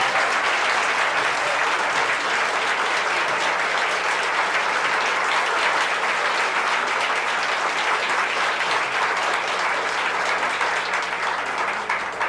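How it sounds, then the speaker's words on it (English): An audience claps steadily for Edith B Nettleton at a Connecticut proclamation ceremony, a dense sustained round of applause heard alone. "the governor urges all citizens to join him in applauding Ms. Nettleton's achievements"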